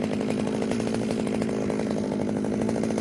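A gasoline chainsaw cuts into wood during artistic wood carving, running close and loud with a steady buzzing drone and slight rhythmic pulsing, with no voices.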